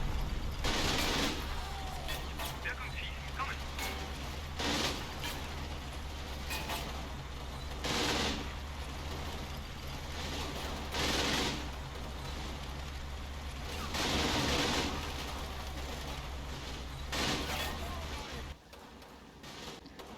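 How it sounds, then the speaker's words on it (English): Vehicle-mounted machine gun opening fire in the WWII strategy game Combat Mission, Kampfgruppe Peiper: loud repeated bursts of automatic fire over a steady rumbling engine and battle ambience, dropping away near the end. "The vehicle gunner opens up."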